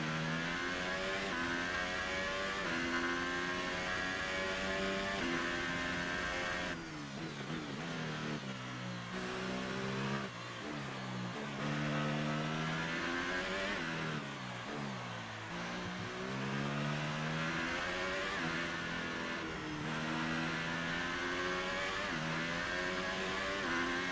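A Formula 1 car racing a fast lap at the French Grand Prix in F1 2018 on a drying track: a continuous high-pitched engine scream rising through the gears, dipping on downshifts into corners and climbing again on the straights.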